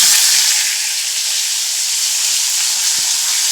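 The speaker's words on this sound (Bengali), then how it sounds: "প্রত্যেকটা মাছ ভাজা হয়ে গেছে, আর একটা বাকি আছে, সেই মাছটা আমি ভেজে নেব" Pomfret fish fry in hot oil in a pan at home, giving a steady, close sizzling hiss with faint crackles and one small clink, with no talking.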